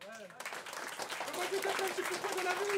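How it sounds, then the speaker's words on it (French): A crowd at a Fnac Gaming Tour event applauds a viewer, a dense burst of clapping that builds and holds steady, with a voice talking briefly at the start. "On peut applaudir ?"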